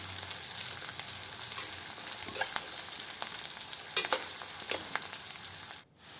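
Onions fry in a pan for poha pulihora, a continuous close sizzle with scattered crackles and stirring clicks that suddenly drops away just before the end.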